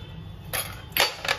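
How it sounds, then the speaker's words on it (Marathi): Green chillies drop into a steel mixer grinder jar, making two or three quick, close metallic clinks and rattles in a short burst. "मिक्सरच्या भांड्यामध्ये मी पहिल्यांदा मिरच्या टाकते"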